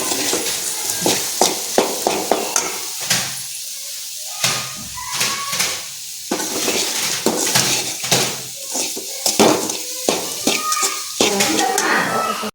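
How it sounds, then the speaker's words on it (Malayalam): Powdered jaggery is stirred in a pan while making boli, with repeated scraping and clanking of a spoon against metal and a soft sizzle, close and loud in irregular bursts. "വെല്ലം പൊടിച്ചതിട്ടിട്ടുണ്ട്. നമ്മളിത് നന്നായി ഇളക്കി കൊടുക്കും."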